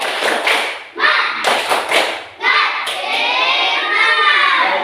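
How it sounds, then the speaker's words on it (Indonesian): Group of schoolchildren in an elementary classroom doing a rhythmic clapping chant, loud claps and thuds in bursts with brief pauses, children's voices mixed in. "mari kita tepuk semangat dulu. Tepuk semangat."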